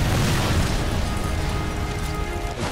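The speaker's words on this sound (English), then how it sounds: "Oh. Big explosion." A big in-game explosion from the Sniper Elite 4 Italia video game on Xbox One, a loud deep boom that rumbles and decays for a couple of seconds with no voice over it.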